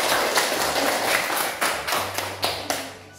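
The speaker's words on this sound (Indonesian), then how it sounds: "Oke, baik, tepuk tangan kita semua." A school class claps together in a classroom, with a few loud, sharp bursts of hands rising over softer scattered tapping. Each burst stands out clearly.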